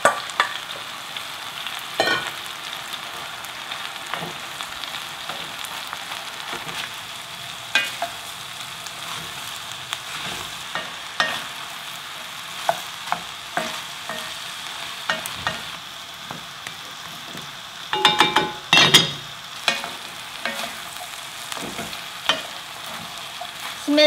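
Onion and cabbage stir-fry in a pan with a low, steady sizzle, broken by irregular scrapes and taps of a spatula that grow busier near the end.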